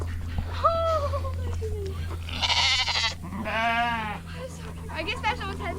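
Several sheep bleat around a person standing among the flock on a farm, loud wavering calls overlapping one after another, close by over a low steady hum.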